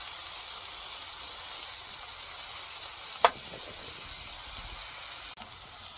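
Pre-sliced whitetail deer meat cooks in a pan with a soft, steady sizzle, faint and even, broken by one sharp click midway, with no talking.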